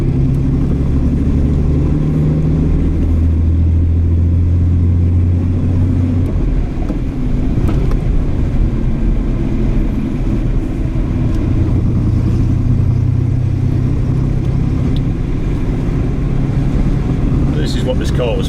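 A 1975 Ford Granada GL cruises along with a steady, low engine drone and road rumble that continue throughout, with a person talking over the car noise.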